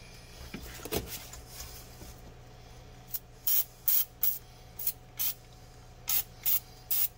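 Battery terminal cleaner sprayed onto the battery of a 2015 Mitsubishi Lancer Evolution X GSR in eight or so short, sharp hissing bursts, close and loud, after a brief quiet rustle.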